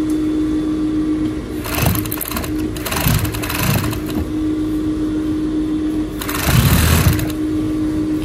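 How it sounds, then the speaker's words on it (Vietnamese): A sewing machine stitches a blouse seam in several short bursts of loud whirring separated by quieter pauses, with a low steady hum underneath. "Mình sẽ may đường này."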